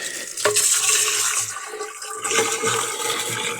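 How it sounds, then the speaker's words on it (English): Water pours steadily from a jug into a plastic pump-up garden sprayer tank, a close, continuous splashing and gurgling with a few brief shifts as the stream moves. "You put the water in first."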